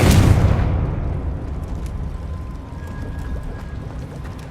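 A Confringo blasting spell explodes in Hogwarts Legacy with a loud, near boom at the start, then fades into a long rumbling decay under a steady low ambient bed.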